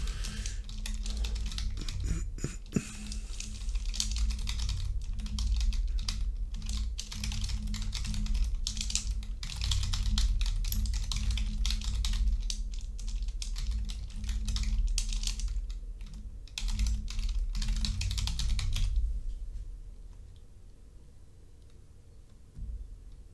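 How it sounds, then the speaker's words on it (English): Computer keys clatter in rapid, irregular bursts of close typing over a low steady hum, then the typing stops for the last few seconds. "I'm writing a description, by the way, that's why you hear this annoying sound from my keyboard."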